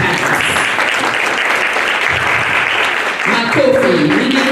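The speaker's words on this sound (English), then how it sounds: "Please give him a clap as he comes." Workshop audience clapping for a speaker coming up, a loud, full wash of applause that holds steady, with voices rising over it toward the end.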